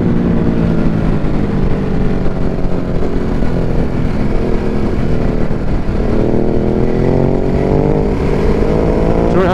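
A Ducati motorcycle engine drones loud and close throughout a road ride, a steady rumble with rising harmonic pitch as the bike accelerates, wind noise mixed in.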